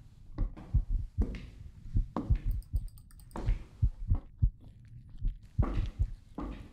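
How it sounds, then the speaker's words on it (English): Thumping heartbeat in an indie horror hide-and-seek game, a steady run of deep, close double pulses that repeat through the whole stretch with a faint ticking texture above, no voices over it. "That's my heartbeat."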